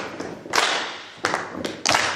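A workshop audience beats out a We Will Rock You pattern, two thumps followed by a clap, repeating in uneven bursts of sharp claps and dull thuds, fairly close and moderately loud.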